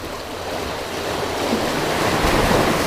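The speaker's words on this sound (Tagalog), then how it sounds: "ang galit yung alon sa atin ah" Steady roar of ocean waves washing in, building slightly louder toward the end, with wind rumbling against the microphone.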